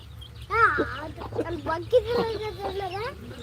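Chickens clucking and squawking close by in a quick, uneven run of calls, over a low steady hum.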